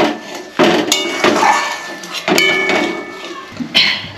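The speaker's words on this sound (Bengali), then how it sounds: "গরম মশলা একটু বেটে নিচ্ছি।" Garam masala spices being ground on a grinding stone in a home kitchen while egg kalia cooks. Sharp close knocks recur every second or so between rough scraping and rubbing strokes, loud and near.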